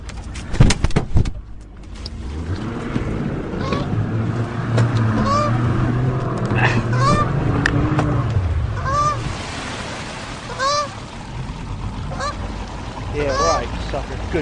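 Goose honking repeatedly during an aggressive attack, harsh nasal calls coming in bursts over a low engine-like rumble, fairly close and loud.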